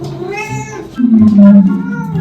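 A person imitates a cat with a drawn-out, wavering meow, loud and close.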